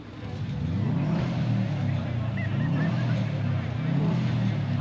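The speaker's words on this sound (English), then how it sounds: "Two R8s coming in." Audi R8 sports cars arriving at a motor gala, a loud continuous engine roar swelling as they approach, with crowd chatter underneath.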